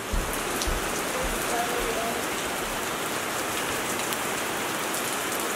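Steady rain falls outdoors, a dense, even hiss of drops hitting surfaces, close and continuous with no voices heard.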